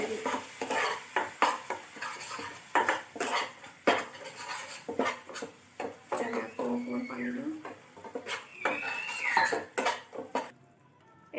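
A spoon scrapes and clatters against a pan as fish curry masala is stirred with added water, steady metallic knocks and scraping strokes repeating close by, with a soft sizzle and moments of bubbling underneath.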